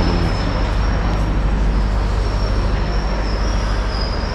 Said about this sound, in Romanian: Stând aici pe peronul gării, am observat trenul ăsta Iași-Socola